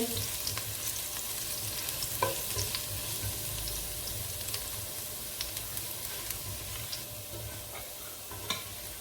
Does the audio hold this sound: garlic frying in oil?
yes